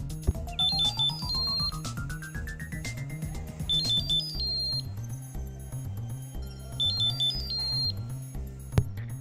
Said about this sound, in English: Your tag will start ringing after you press the button